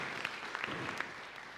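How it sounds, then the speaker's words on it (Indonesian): A church congregation applauds warmly during a sermon, steady clapping from many hands filling a short stretch without talk. "Berikan tepuk tangan yang meriah buat Tuhan."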